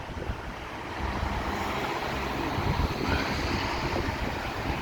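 Loud, broadband rushing of surf and wind at Blackpool as a wave splashes over the pier, swelling as water surges and splashes up close, with continuous blustery noise throughout.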